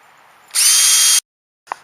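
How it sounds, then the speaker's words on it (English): A loud power drill whirs close up for about half a second, stops abruptly, then a brief faint burst follows, drilling holes in a DIY fishing rod tube for a truck or SUV. "I go through and drill these other holes"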